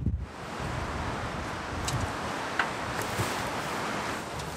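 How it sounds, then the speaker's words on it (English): Strong wind roars steadily across open New Zealand backcountry near a mountain pass, a dense, continuous gusting rush with a few brief buffets hitting the microphone and no voices. "It's gonna be a windy night, I tell you."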